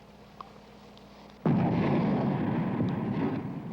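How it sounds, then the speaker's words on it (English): A single heavy artillery shell fired in Afghan combat booms abruptly out of near silence, followed by a long, dense rumbling roar that lingers and slowly fades. "Artillery shell."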